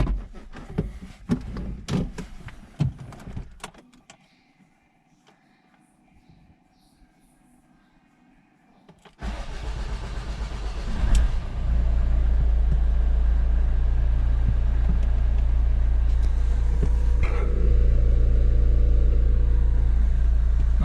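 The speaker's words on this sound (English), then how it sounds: "So now I can start the engine." An Opel Astra H 1.7 CDTI diesel, just refitted with a new dual mass flywheel and clutch, cranks and fires after some clanks and a quiet pause, then settles into a loud, steady, low rumbling idle close by.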